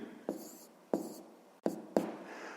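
Pen or pencil writing a math solution on paper, heard as short scratchy strokes with four distinct taps or lifts at irregular intervals, close and soft against a faint room hiss.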